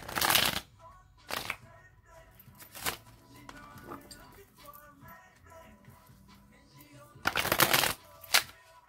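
A deck of tarot cards is shuffled by hand in several brisk, riffling bursts, with quiet, faint handling sounds between them and a double burst near the end.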